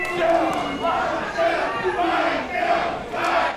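A pro wrestling crowd cheering and chanting in rhythmic swells, loud and full, with a commentator talking over the noise.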